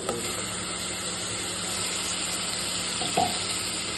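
Ground tomato poured into a pan of frying ginger and garlic: a steady, close hiss and sizzle of hot oil runs throughout, with a brief splashy bump near the end and no talk.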